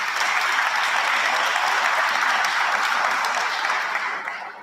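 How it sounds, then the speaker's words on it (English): Audience applause for state legislators and the governor at a public appearance, a dense, sustained roar of clapping from a large crowd that fades toward the end. "Let's give all of them a big round of applause."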